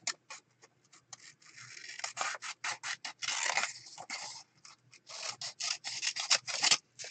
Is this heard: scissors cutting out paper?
yes